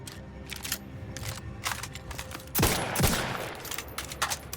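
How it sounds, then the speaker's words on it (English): Marksman rifle fire in The Outer Worlds 2, a weapon with an M14-like, bolt-action character: two sharp, loud reports roughly half a second apart, each with a short echoing tail over steady game ambience. "Marksman rifle."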